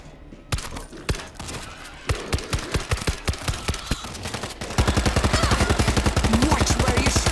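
Gunfire in the World War Z video game: scattered single shots, then rapid bursts, ending in a long sustained automatic volley that fills the mix, loud and close.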